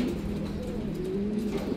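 A racing pigeon coos softly and steadily at its loft after finishing a derby race in Bauang, La Union, a low continuous burbling with no talk.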